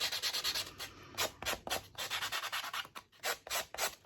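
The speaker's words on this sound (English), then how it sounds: "when I'm sanding it, all the little particles are actually filling in any gaps" Quick, rhythmic sanding strokes rasp back and forth close by, a steady scratchy rubbing with short gaps between passes.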